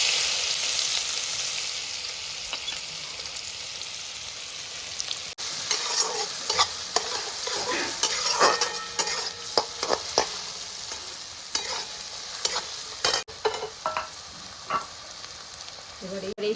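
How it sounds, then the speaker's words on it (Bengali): Black mustard seeds spluttering in hot oil, then chopped onion tipped in for sooji upma: a soft sizzle swells into loud popping, crackling and spoon scrapes, with sharp irregular bursts through the second half. "তো এই যে আমি তেলের উপরে কিছুটা সর্ষে ফোড়ন দিয়ে দিচ্ছি, কালো সর্ষে"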